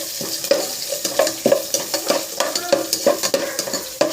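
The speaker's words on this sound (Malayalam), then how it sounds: "ചെറിയ ഉള്ളി, പിന്നെ ഇഞ്ചി, പച്ചമുളക്, പിന്നെ ക്യാരറ്റ് എല്ലാം കൂടി ഇട്ട് നന്നായി ഇളക്കുക" Small onions, ginger, green chili and carrot stirred in a hot pan for semiya upma, with steady frying sizzle and repeated scraping strokes of a spoon or spatula at a quick, uneven rhythm, close and clear with no talking.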